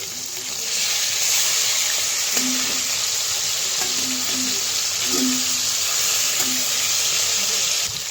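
Pieces of kalibaush fish sizzle steadily in hot oil in a pan, a constant loud frying hiss with a few soft clinks and scrapes as the pieces are turned one by one.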